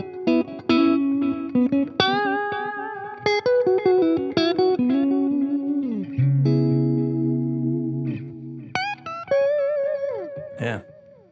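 Bright, clean electric guitar with a thin, pingy out-of-phase tone, plucked notes and chords ringing one after another, close and fairly loud.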